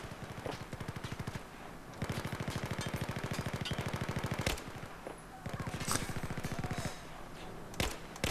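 Gunfire in the Battlefield 4 video game: close, loud rapid automatic bursts run almost continuously, broken by a few short gaps and some sharper single cracks near the end.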